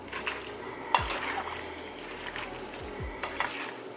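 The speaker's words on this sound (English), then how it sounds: "Pasta is already cooked, so just stir a little bit." Cooked pasta is stirred in a pan, giving a soft continuous scraping and light sizzling with a couple of faint clinks, quiet and close.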